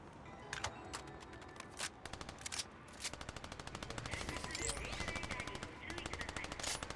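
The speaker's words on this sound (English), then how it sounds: "Because you just shot them." Rapid gunfire in the Fortnite video game crackles in repeated sharp bursts, some single shots and some fast strings, fairly close and loud against a busy game background.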